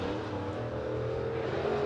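A late model race car engine drones steadily on a qualifying lap at Boyd's Speedway, a continuous loud roar with a slight rise toward the end and no voices.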